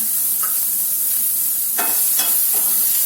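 A loud, steady sizzle of egg gravy ingredients sautéing over medium flame in a frying pan, with a few scraping stirs, nobody speaking.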